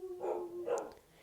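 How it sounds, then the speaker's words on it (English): Pet dogs bark indoors, two sharp barks about half a second apart over a faint sustained whine, close and moderately loud, with no talking. "Excuse my dogs for a second."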